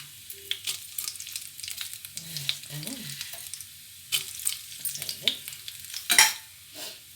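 Mustard seeds, urad dal and cumin tempering in hot oil, sparse close crackles and sizzling pops with some spoon clatter, while a voice murmurs briefly in between.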